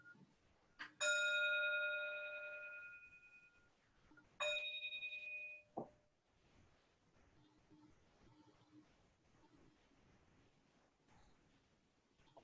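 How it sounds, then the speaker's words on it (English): A meditation bell rings out during a Buddhist service: one long, clear resonant strike that fades slowly, then a second shorter strike and a brief muted tap, followed by quiet room sound. "the bell is transitioning us from our practice of acknowledging the Buddha"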